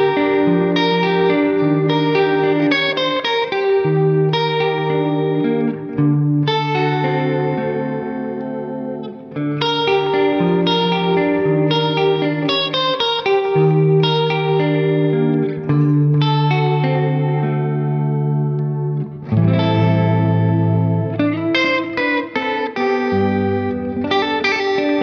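Electric guitar played continuously through an effects unit, with chorus, distortion and echo colouring sustained chords and melodic runs, loud and steady for the whole stretch with no talking.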